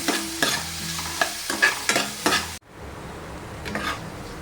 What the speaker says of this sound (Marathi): टॉमॅटो पण परतून घ्यायचा ह्याच्यात